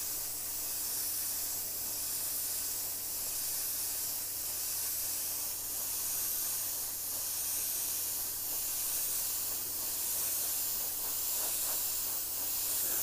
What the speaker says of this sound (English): spraying another layer that needs to dry on this